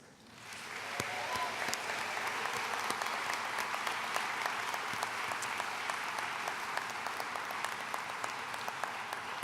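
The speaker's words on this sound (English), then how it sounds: "I ask you to demonstrate your appreciation by applauding the faculty seated in the front" Audience at a university commencement ceremony applauding the faculty, a sustained, even wave of clapping from a large crowd that swells in after a quiet start and holds steady.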